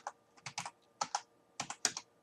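Keys clack on a computer keyboard as a command is typed at a network switch console, in three quick close bursts of several keystrokes each, crisp and alone.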